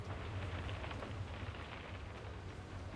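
Rain falls in the video game Reverse 1999 as a soft, steady wash of hiss with a low rumbling undertone, quiet and continuous with no voices.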